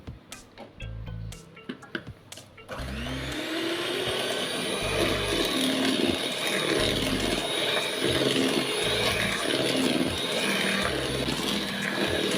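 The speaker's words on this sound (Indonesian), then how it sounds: "Kemudian lanjut mixer kembali." An electric mixer beats cake batter flavored with pandan and chocolate, starting with a few knocks and clicks, then whirring up into a continuous loud motor drone with rhythmic thumps as the beaters churn.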